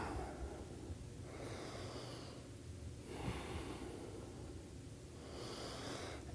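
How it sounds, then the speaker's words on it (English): Deep, slow yoga breaths drawn in and pushed out through the nose, three or four quiet rhythmic cycles, close and soft, with no talking. "Two more breaths."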